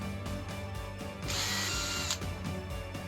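A drill chuck is hand-tightened onto a brad point drill bit: close mechanical clicking gives way to a louder burst of ratcheting grind lasting under a second, then quieter clicks again, with no voices.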